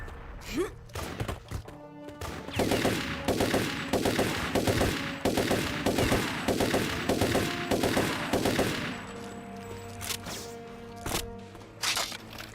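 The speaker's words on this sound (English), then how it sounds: "Yes, the minigun." Minigun in the Turok 3 video game firing a sustained rapid burst of about six seconds, dense evenly spaced shots, loud and close, with scattered single thumps before and after it.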